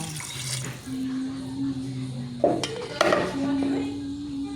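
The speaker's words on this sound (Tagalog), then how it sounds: "Sabuan para ubay-ubay ang sabaw." Water runs and splashes into a metal soup pot for broth, a steady watery rush with pot and utensil clanks, while a voice talks intermittently over it.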